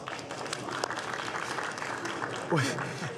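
Brief applause rings out in a Senate chamber during a vote, a short burst of clapping mixed with the murmur and talk of legislators.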